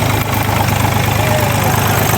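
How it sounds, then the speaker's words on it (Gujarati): A tractor engine runs steadily while pulling a tine harrow through a field, a loud, constant close-up rumble with a rough mechanical drone and no pauses. "અત્યારે આપણું ટ્રેક્ટર દાયતીમાં શરૂ છે."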